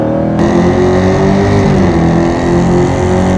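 A Hellcat Redeye's supercharged 6.2 liter V8 with 797 horsepower revs loud and close, a sustained deep roar rising as the throttle opens and holding strong throughout.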